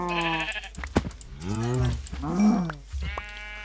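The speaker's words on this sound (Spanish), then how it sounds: "me ha contestado una oveja" Sheep bleating in a video game set on islands, several wavering, nasal bleats in close succession, loud and near, with no talk over them.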